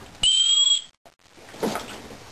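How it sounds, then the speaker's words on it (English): A loud, piercing safety whistle built into the sternum strap of an Osprey hiking backpack gives one steady two-tone blast lasting about half a second, followed by faint handling noise. "It's also got a whistle on this strap that's pretty loud."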